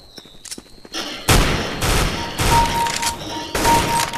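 Bursts of automatic rifle fire in Counter-Strike: Global Offensive, played against bots: several loud, close volleys of rapid shots separated by short gaps, with faint game sounds in the quieter opening.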